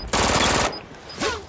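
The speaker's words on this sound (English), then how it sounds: "this gun has got a high rate of fire" A high-rate-of-fire gun in the Brink video game lets off a loud, rapid burst of shots lasting about half a second, followed by a fainter, softer sound trailing after it.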